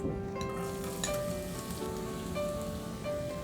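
Finely chopped onions crackling in hot oil in a pan, a dense steady patter of fine sizzling pops like light rain, close and continuous with no voices.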